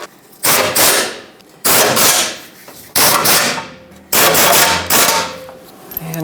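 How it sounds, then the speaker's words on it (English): An impact tool rattles four times, in loud, close bursts of about a second each, as it snugs four 15mm bolts into the skid plate of a 2007-2014 Chevrolet Silverado. "Snug up all 4 15mm headed bolts."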